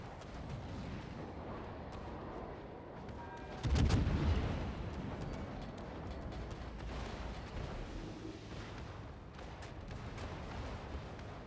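Warship guns fire in the naval battle game World of Warships. One heavy, booming salvo rolls out loud and near, then trails into a low rumble over steady background sea and engine noise.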